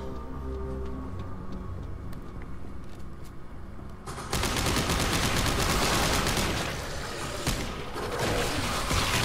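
Gunfire from the video game Dead Space 3 erupts partway through, a dense loud burst of rapid shots following a quieter stretch of game ambience.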